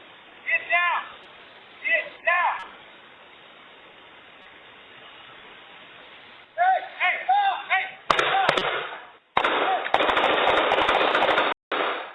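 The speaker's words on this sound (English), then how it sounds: "The sound of gunfire is what neighbors can't forget." Rapid bursts of loud gunfire from a police confrontation with an armed driver, several volleys of popping shots in quick succession, with short pauses between, heard amid harsh outdoor noise.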